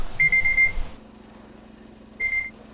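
Electronic timer alarm in the survival video game Scrap Mechanic: a steady high beeping tone sounds for about half a second, stops, then returns briefly near the end over a low game hum.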